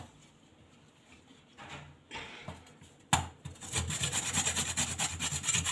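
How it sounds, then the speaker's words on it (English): Carrots are grated by hand, with quiet scattered rubs at first, then from about the midpoint a loud, continuous rhythmic rasping of strokes against the grater, close up and without speech. "I'm going to grate the carrots."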